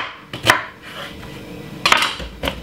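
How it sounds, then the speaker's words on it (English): Knife chopping a red onion into chunky slices on a board, three sharp separate cuts with short pauses between them, close and fairly loud, no voices. "All they're gonna do is just cut the red onion into some chunk slices."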